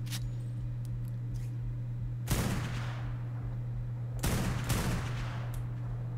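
Gunfire in the video game Ark: Survival Evolved: two sharp sniper shots about two seconds apart, each trailing off in a noisy decay, over a constant low electrical hum.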